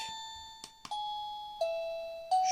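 A quiet electronic chime from a Fuers wireless smart doorbell steps through a few sustained, bell-like tones, each starting with a soft click and fading slightly, with no voices.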